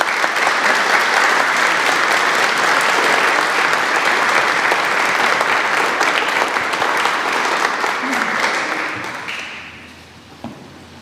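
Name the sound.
audience applause welcoming the speaker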